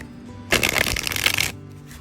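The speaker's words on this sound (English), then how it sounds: "So let's shuffle this deck up and pick a few from" A Mind's Eye Tarot deck being shuffled, one close, crisp burst of riffling cards lasting about a second, with quiet room tone before and after.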